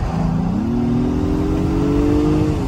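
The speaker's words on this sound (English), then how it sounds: "in person, you can really hear the turbo" A 2022 Acura MDX Type S with a turbo engine in sports mode accelerates from inside the cabin, its engine tone rising steadily and then holding as a smooth, continuous hum over road noise.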